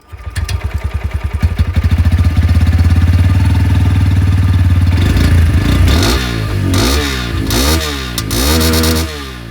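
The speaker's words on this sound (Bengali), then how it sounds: "দুটো বাইকেরই আমি আপনাদেরকে এখানে এক্সস্টে শুনিয়ে দিই" A Bajaj Pulsar N125 motorcycle with its standard exhaust starts up and idles with a steady low thump. Its engine then revs up hard several times in sharp rising and falling bursts, loud and close, with no talking.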